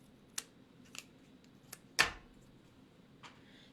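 Scissors trimming a scrap strip of cardstock for a handmade Christmas card, several quiet crisp snips spaced apart, one louder cut in the middle, in a quiet room.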